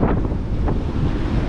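Strong wind buffets the microphone on the open forward deck of the Island Princess cruise ship, a loud continuous roar with a hint of sea noise and no talk.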